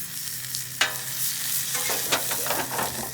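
NY strip steaks sizzle steadily on a Blackstone griddle, a constant close hiss of frying with a few sharp scraping and stirring clatters breaking through, no voices.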